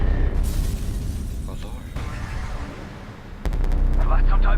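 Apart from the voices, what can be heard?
explosion in the video game F.E.A.R. 2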